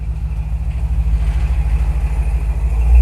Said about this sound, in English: Wow, was that a Dodge or something?